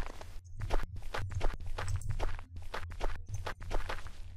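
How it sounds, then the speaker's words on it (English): Hollow, clanking video game footsteps climbing a metal ladder in a quick, uneven rhythm, each step ringing sharply against metal, close by with no voices. "if I go up my ladder, you'll see that the sound will transition straight to the metal"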